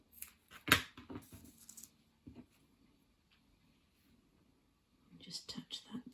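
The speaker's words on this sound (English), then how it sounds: "I'll just snip that off." Small scissors snip off miniature plant material for a dolls house, giving a few faint close clicks and light rustles over soft whispered speech.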